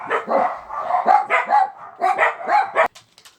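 Puppies barking in a quick, steady series of yips and barks, close and loud, with a short quiet stretch at the end.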